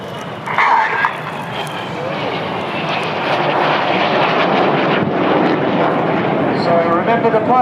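Red Arrows jets roar past at Sunderland Airshow, a loud, continuous engine rush sweeping overhead under an airshow commentator's voice on the public address, with crowd noise in the background.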